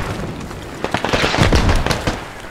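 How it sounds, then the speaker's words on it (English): Mortar shells exploding in the military shooter game Squad, a dense run of booming blasts and crackling bursts that swell in the middle and keep rolling throughout. "that is enemy area attack. Just mortar."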